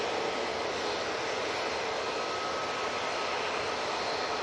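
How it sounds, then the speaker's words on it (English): Steady broadband roar of an EasyJet Airbus A320's jet engines at Manchester Airport, constant and fairly distant with no variation, no voices present. "EasyJet A320"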